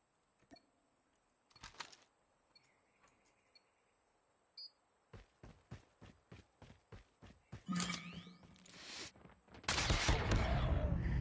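Gunfire in the mobile shooter game Call of Duty Mobile: a few sparse shots, then a rapid string of sharp single shots building into dense bursts and louder sustained firing toward the end.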